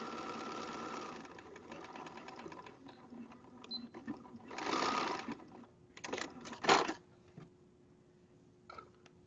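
A domestic sewing machine stitches seams on pajama fabric in short bursts of running and stopping, with quiet pauses between runs and no talking.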